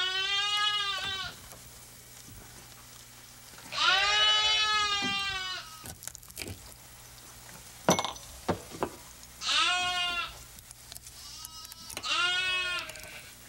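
An older sheep bleats loudly and close several times, long wavering cries separated by quiet gaps with some brief knocks and shuffling between them.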